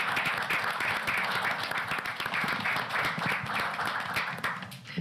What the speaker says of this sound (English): Would you all give her a big round of applause?